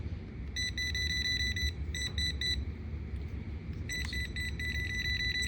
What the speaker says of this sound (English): it's going to beep and turn red when it senses current